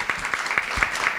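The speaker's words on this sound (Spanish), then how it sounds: "Un fort aplauso per a Pere Rius, per favor." A seated audience at a professional animation and video game conference applauds speaker Pere Rius of Lince Works, brief scattered hand claps at moderate volume.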